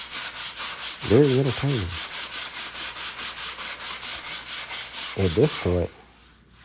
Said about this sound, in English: I'm doing a voiceover, watching myself sand